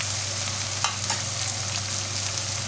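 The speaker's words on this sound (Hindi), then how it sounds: "मसाला हमारा भून गया" Masala spices fry in a pan with a steady, close hiss and sizzle, while a few faint stirring scrapes break through the constant frying noise. There is no talking.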